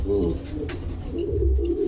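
Pigeons cooing at a pigeon farm, close and low, a brief run of soft throaty coos overlapping in rhythm with no talking.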